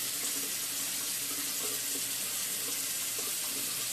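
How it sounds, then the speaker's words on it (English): Running tap water at a bathroom sink while someone splashes water onto their face during a skincare routine, a steady close hiss of flowing water with faint irregular splashes and no talk. "I'm going to throw a little water on my face."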